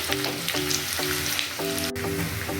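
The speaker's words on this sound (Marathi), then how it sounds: "कांदा चांगला लाल करून घ्यायचा।" Onion fries in hot oil until browned for chana masala, a steady close sizzle with faint stirring and a tonal hum running underneath throughout.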